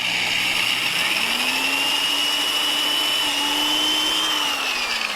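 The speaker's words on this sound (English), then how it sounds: "we're going to use the holes in the bracket to drill the holes in the fender" A drill boring through a fender using a bracket's holes as a guide, a loud continuous whine that rises in pitch as it cuts, heard close with no talk.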